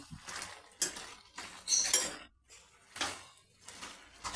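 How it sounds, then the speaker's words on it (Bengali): Bottle gourd greens being stirred in a metal pan over a high gas flame, with repeated scraping and clinking of a utensil against the pan in uneven bursts, close and moderately loud, with no talking. "এবার আমি ভালো করে ওপর করে নেড়ে দেব"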